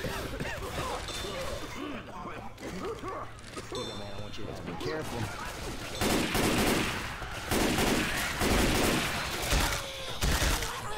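Sniper rifle fire in Left 4 Dead 2 during a Dead Center zombie fight, several heavy cracks in the second half over chaotic game noise, with people talking excitedly throughout.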